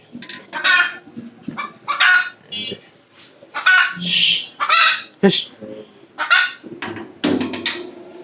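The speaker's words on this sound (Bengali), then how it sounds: "এখন আপনাদের মুরগির সামনে আসলে নিয়ে যাওয়া দরকার কারণ প্রায় মুরগি আমাদের ডিম পাড়তে বসে" Native hens cluck and squawk in repeated bursts close by, with sharp higher calls mixed among the clucks and no voices.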